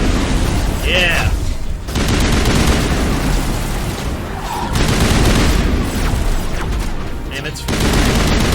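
Dense, loud gunfire and bursts from the video game Mass Effect fill the scene continuously, rapid shots and booms overlapping with game effects, while players talk over it.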